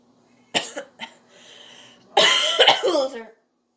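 Two loud, harsh coughs burst out in quick succession, each in a short broken rhythm and close to the microphone, with a faint voice in the gap between them, during a ventriloquist's puppet comedy act.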